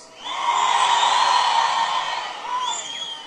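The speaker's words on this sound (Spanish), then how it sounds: "Un grito a los caballeros." Men in a concert crowd shout together on cue at a band's show in San Francisco el Alto, a loud sustained mass yell that swells, holds for a couple of seconds, then tapers with a few stray whoops.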